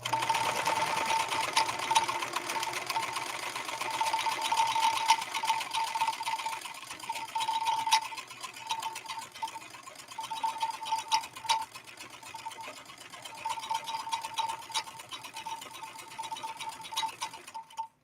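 A 1970s Kenmore 158.13520 sewing machine runs steadily through a diamond stitch, a continuous close whirring hum with rapid needle ticking and a few brief slowdowns.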